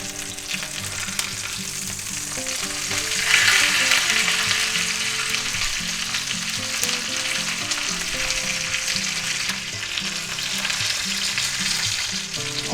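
Breaded chicken frying in a pan for a chicken Parmesan sub, a loud, steady close-up sizzle and crackle that swells briefly when the piece is flipped.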